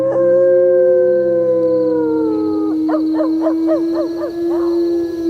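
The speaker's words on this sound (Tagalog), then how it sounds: "Grabe naman ang alulong ng asong yun." A dog's long, drawn-out howl at night, loud and close, one sustained wavering tone that breaks into a series of short yelping pulses toward the end.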